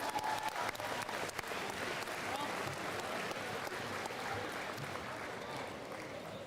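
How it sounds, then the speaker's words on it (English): Sustained applause from a school audience at a Veterans Day ceremony, many hands clapping in a dense, even wash that holds steady then tapers slightly. "Let's give them a round of applause"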